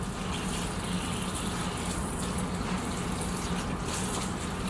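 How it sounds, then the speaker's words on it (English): Running tap water gushes steadily over fruits and vegetables being rinsed, a constant close splashing rush with faint shifts as the produce is moved under the stream. "Now, we'll start off by rinsing them."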